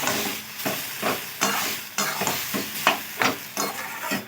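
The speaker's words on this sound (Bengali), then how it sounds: "তো এইটাকে ভালো করে 5 মিনিট ধরে একদম কষিয়ে নিচ্ছি।" Boiled cabbage is stir-fried in oil in a pan for a vegetarian milk-cabbage dish: rhythmic spatula scrapes, roughly two per second, over a constant close sizzle.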